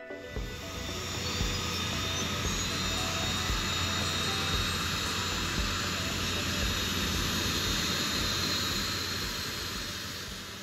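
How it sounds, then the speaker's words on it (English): A HondaJet HA-420 small business jet roars steadily with a dense, broadband engine rush and a thin high whine, sustained and loud throughout without voices. "Introducing a small business jet with a big set of interesting features, the HA-420 HondaJet."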